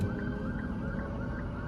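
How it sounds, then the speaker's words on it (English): An ambulance siren wails somewhere in Los Angeles city traffic, a steady repeating tone rising and falling at a distance beneath a low rumble of road noise. "ambulance is coming"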